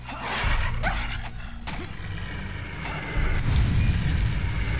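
A small dog barks and yips in the video game Castlevania 64, a few sharp barks early on followed by a louder rumbling boom-like game noise, with no speech over it.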